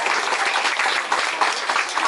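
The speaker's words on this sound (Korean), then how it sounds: "큰 박수 한번 부탁드리겠습니다" An audience at a Busan International Film Festival gathering claps steadily, a dense wash of applause that holds for the whole stretch without any voices over it.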